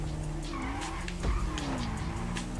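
Car in GTA V Online sliding through corners, a continuous engine drone with wavering tire-squeal tones rising and falling, plus a short thump midway, steady and fairly loud.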